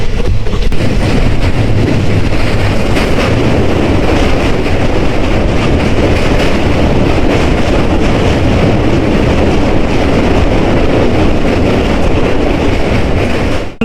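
An express train bound for Guwahati runs between stations, its loud, steady rumble and rattle of wheels and carriages filling the cabin without a break and with no voices.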